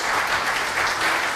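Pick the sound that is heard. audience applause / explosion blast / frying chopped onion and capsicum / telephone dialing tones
audience applause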